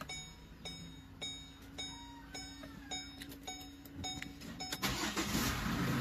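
A 2014 Chevrolet Trailblazer LT SUV is heard from inside the cabin as a steady series of regular chime-like clicks over a low hum, followed near the end by a loud, close engine crank that catches and roars into a running idle, with no talking.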